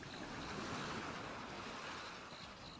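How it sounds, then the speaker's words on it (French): Ocean waves washing onto the shore in a continuous broadband rush, steady and fairly soft, with no voices. "Écoute le son des vagues,"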